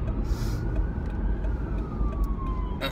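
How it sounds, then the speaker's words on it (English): An ambulance siren sounds faintly as it passes, a thin steady wail gliding slowly downward in pitch over heavy road and engine rumble from inside a moving car. "whoever's needing this ambulance, be with them"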